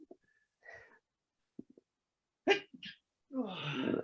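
A single sharp sneeze follows a few soft breaths and small throat noises, close to the microphone in a quiet room, with a person's voice starting right after it.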